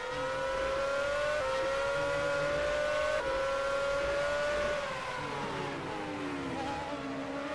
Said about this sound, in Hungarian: elég hülye hangjuk van ezeknek az autóknak